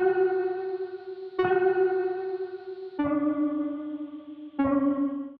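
Four sustained synth pluck notes, each attacking sharply and ringing with steady harmonics; dry and clear, close and fairly loud, no talk.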